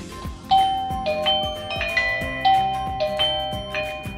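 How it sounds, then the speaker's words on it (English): Chime of a Eufy 2K video doorbell rings out alone, a bright repeating sequence of clear electronic tones sounded twice in succession, close and moderately loud. "So let's press the doorbell."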